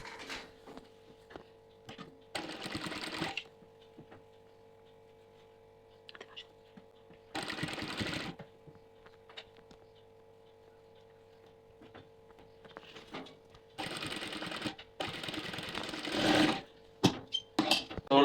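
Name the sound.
sewing machine top-stitching a nighty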